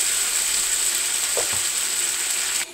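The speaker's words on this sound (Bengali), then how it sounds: "আমি একটা জাস্ট ফ্রাই প্যান নিয়েছি, তার মধ্যে আমি এই মেখে রাখা ইলিশটা" Marinated hilsa fish sizzles in a frying pan with a loud, steady, close-up crackling hiss that stops abruptly near the end.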